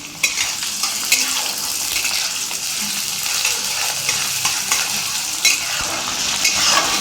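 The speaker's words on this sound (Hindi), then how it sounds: "प्याज डालने के बाद अब बढ़िया से इसको थोड़ा सा फ्राई कर लेना है।" Chopped onions for a besan (gram flour) curry frying in a pan, a continuous loud sizzle with regular scraping and clinking of a spoon against the pan as they are stirred, no voices.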